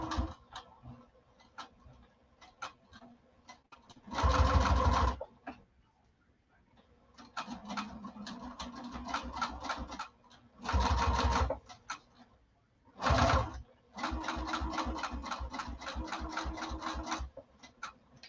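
A sewing machine runs in several bursts of rapid mechanical stitching, separated by pauses filled with slower, lighter ticking from hand-turned stitches.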